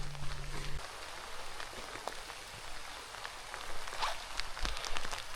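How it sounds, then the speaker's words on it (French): Rain falls steadily on a coastal hiking path in Brittany, a soft broadband patter with scattered nearby drop ticks and a brief low hum at the start, moderate and continuous with no talking. "Là c'est la pluie."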